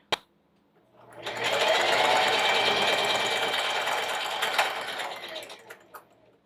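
A sewing machine runs steadily for about four seconds, stitching a mini quilt made from panel fabric, with a soft click before it starts and a few taps as it winds down; nobody speaks.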